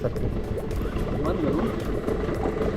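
A fishing boat's engine rumbles steadily throughout while trolling off the Konkan coast, a low continuous drone with water noise, while people talk over it.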